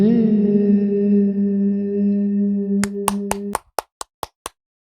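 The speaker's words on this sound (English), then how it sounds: "Give a clap for yourself, man." A sustained humming tone fades out as about eight sharp hand claps ring out, evenly spaced and close, ending in silence.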